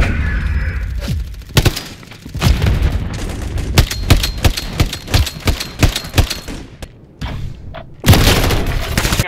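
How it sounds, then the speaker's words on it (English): A flash grenade goes off among chaotic gunfire and booming explosions in Call of Duty MWIII hardcore multiplayer, with many sharp close bangs, dense and loud, ending in a sustained burst of noise. "Flash grenade!"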